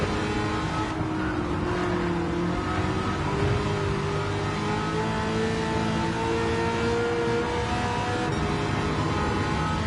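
Race car engine in Gran Turismo 7, revving and whining steadily through the gears for the whole stretch, loud and close, with rising and falling pitch as the car accelerates along a track.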